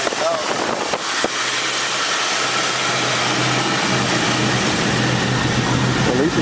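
A 1973 Ford Torino Sport fastback engine that sat for three years runs at a steady loud idle, a rough continuous rumble with a low hum, while someone talks nearby.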